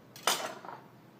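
Chopped mushrooms drop into a bowl in a kitchen with a brief, soft clatter, a quick impact followed by a short scatter of lighter clinks that fades within a second.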